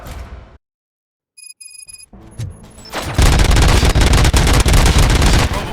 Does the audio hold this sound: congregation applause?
no